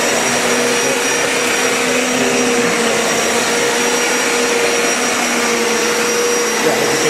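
A Hoover or Bissell carpet cleaner sucks up water from carpet with a loud, steady, high-pitched suction whine and motor drone that holds constant throughout.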